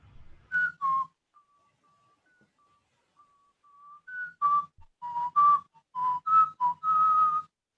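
Someone whistles a melody in clear, sustained notes, starting with a few soft tones, then a livelier run of short and held notes. No talking.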